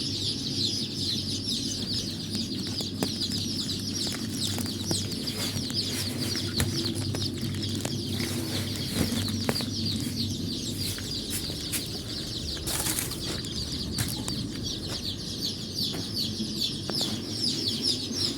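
Many black chickens and chicks clucking and peeping together during sorting, a busy, continuous chorus close by, with occasional wing flaps.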